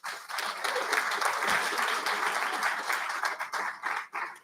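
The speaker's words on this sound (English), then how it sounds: "You might give her a clap, please." A theatre audience at the All-Ireland confined drama finals claps for a bus company sponsor, a full, even wave of applause that holds for several seconds and then tapers off unevenly toward the end.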